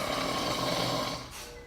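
A man snores while asleep in a hospital room, a steady breathy rasp that trails off into a quieter exhale near the end.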